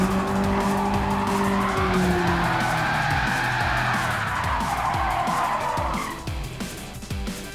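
Car tires skid and squeal loudly in Gran Turismo 7 with traction control off, a sustained screech over a droning engine that fades near the end.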